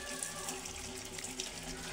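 Water runs steadily from an opened tap, a constant splashing gush with a faint mechanical hum underneath, nearby and without talk.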